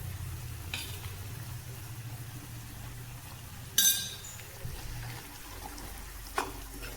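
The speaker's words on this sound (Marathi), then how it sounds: "ते पण चांगलं परतून घेऊ" A dry masala paste fries in a pan with a soft low sizzle and a faint steady hum, broken by a few sharp scrapes and clinks from stirring.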